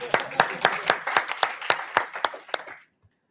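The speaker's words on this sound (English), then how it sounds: "Round of applause for the model." A small meetup audience gives a short round of scattered hand claps, about a dozen distinct claps over a few seconds before stopping abruptly.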